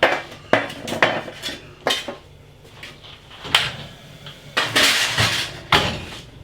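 A tray of large onion rings is slid into an oven, with loud metallic clatters and bangs of the tray and oven door in several sharp bursts, no voices.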